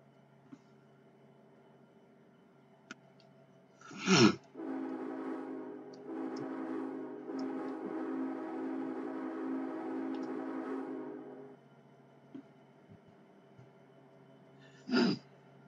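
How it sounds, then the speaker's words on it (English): A Union Pacific train in Train Simulator 2021 rumbles in toward Topeka and sustains a steady mechanical drone for several seconds, bracketed by two short, loud horn-like blasts with quiet gaps between. "here comes our train"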